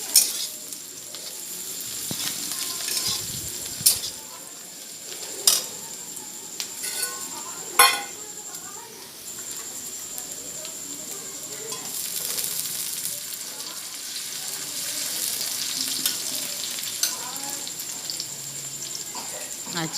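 Chicken pieces added to fried onions hiss and sizzle in a hot wok on a gas stove, a steady close frying noise with occasional clinks and stirring scrapes throughout.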